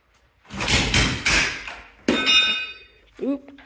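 A 1980 Yamaha XS400 motorcycle being kick-started, with heavy mechanical thuds and clanks from repeated kicks and a brief sputter of the engine trying to catch, loud and close.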